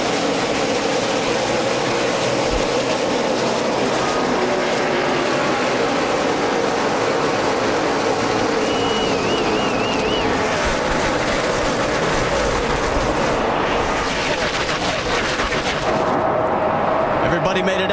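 Stock cars roaring in a dense pack at the green flag of the AAA Texas 500 NASCAR Chase race, a loud, continuous rumble of engines under crowd and track ambience.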